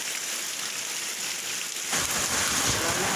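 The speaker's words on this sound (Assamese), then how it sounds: "বৰষুণ দি আছে।" Steady rain pours down during the rainy season, a dense even hiss that swells louder and fuller partway through, with no voices.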